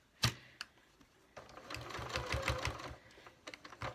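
A sewing machine stitches a zipped pocket into a bag in short bursts of rapid mechanical needle clatter. Sharp clicks from lifting the needle and adjusting the work come between the bursts.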